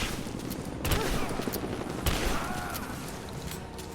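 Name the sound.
shotgun fire in the video game Rise of the Tomb Raider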